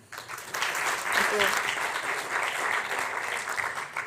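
An audience at a university symposium breaks into warm applause to welcome a speaker, a full burst of many hands clapping that swells quickly and stays even, with some voices faintly mixed in.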